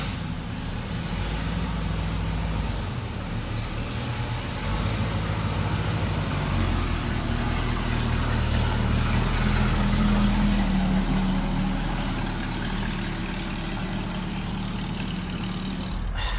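Plymouth Superbird's engine idles steadily up close, a deep continuous rumble with a slight swell partway through and no talk over it.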